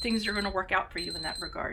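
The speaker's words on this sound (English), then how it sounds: "Sorry for the beeping. It keeps me on track with time." A timer gives a steady high electronic beep that runs through the clip at low volume beneath a person talking.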